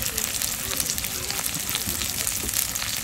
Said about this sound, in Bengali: তেলের মধ্যে জিরে ফোড়ন দিয়ে মাছটা ভেজে নেবেন।